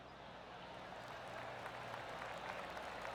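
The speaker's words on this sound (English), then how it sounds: "That deserves a golf clap." Spectators at the Genesis Invitational golf tournament give a soft, steady round of applause that sounds diffuse and somewhat distant, with no voices on top.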